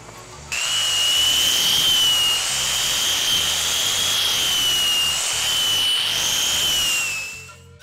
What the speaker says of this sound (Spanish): Luego de aquí procedemos al lijado.